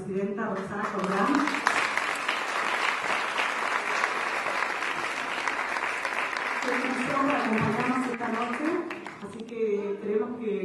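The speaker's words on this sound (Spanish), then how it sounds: "Pedimos un aplauso para la presidenta Rosana Corral." Audience applause after a call to welcome a female president at a cocktail reception, a dense steady clapping wash lasting about ten seconds, with voices and tonal speech-like sounds running under and over it throughout.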